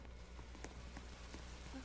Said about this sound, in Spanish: creo que está lloviendo.